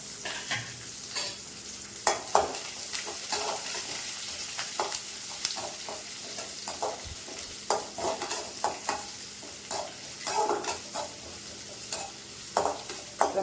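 Curry leaves, green chilies and onion sauté in a pan for a brinjal and potato stir-fry. A spatula stirs and scrapes in an irregular rhythm over a soft, steady sizzle, close by, with no voices.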